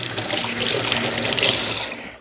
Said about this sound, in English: let me rinse some hands off